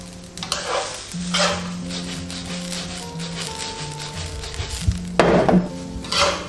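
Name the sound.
stir-frying sesame seeds over low heat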